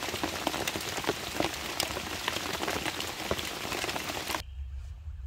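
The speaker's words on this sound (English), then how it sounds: "Sleep underneath this this beautiful sounding rain" Heavy rain patters densely and steadily at night on an ATV campsite, close and continuous with sharp drop impacts, then cuts off abruptly to near quiet near the end.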